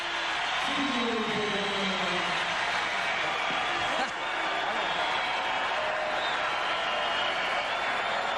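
A large crowd in a gymnastics arena at the 2002 World Gymnastics Championships applauds and cheers steadily after a men's apparatus landing, a dense, sustained roar of clapping with a commentator speaking briefly near the start.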